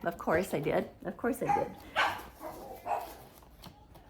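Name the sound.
dog barking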